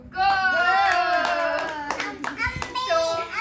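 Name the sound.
children clapping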